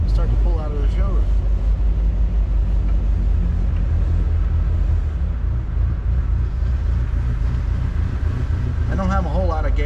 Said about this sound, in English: I'm gonna engage first gear. And start to pull out of the showroom.